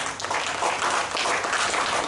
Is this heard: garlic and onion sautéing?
no